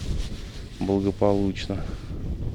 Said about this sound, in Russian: Блин, ветер против течения очень сильный.